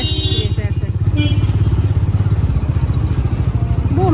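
A motorcycle engine starting and settling into a close, steady, throbbing low rumble that runs for a few seconds, with a voice briefly heard over it.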